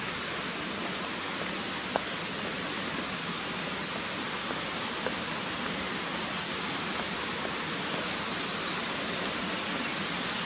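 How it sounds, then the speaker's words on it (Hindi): Steady rushing water from a stream or waterfall in a forested walkway in Meghalaya, India, a continuous broadband hiss and roar with no breaks, sitting at moderate level with only faint incidental clicks. "पानी की आवाज, शांति"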